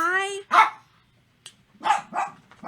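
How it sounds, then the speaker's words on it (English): Dogs bark several times in loud, separate bursts with short gaps between, including a high whining yelp at the start. "My dogs agree."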